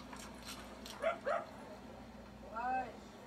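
A German Shepherd gives a few short barks and yips, then a longer whine, reacting to a police show on TV, with the TV's dialogue running underneath.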